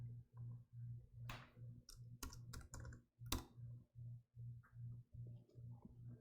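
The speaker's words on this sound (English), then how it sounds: "I'll try again with the right keyboard." Keystrokes on a computer keyboard while a home/office PC is set up, a quick, irregular run of sharp clicks, some in tight bursts, over a soft rhythmic background hum.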